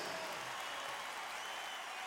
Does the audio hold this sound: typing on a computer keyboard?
no